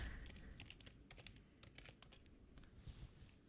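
A computer keyboard is typed on in a quiet room, a steady run of soft, light keystrokes with brief pauses, close by and faint, no voices.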